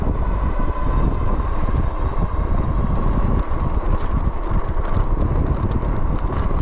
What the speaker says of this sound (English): So we got a chilly wind again today.